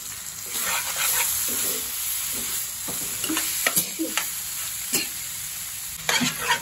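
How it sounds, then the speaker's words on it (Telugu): Chicken frying in a pan for a granny-style Telugu chicken fry, a steady close sizzle broken by repeated scrapes and knocks of a spoon stirring through the pieces. "దీన్ని ఇట్లానే ఫైవ్ మినిట్స్ కొంచెం ఫ్రై చేసుకుని కలుపుకుంటా"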